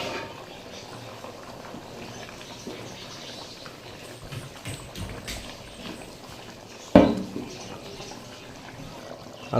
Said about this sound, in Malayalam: നന്നായിട്ടൊന്ന് തിള വരുന്നവരാണ് വെയിറ്റ് ചെയ്യുക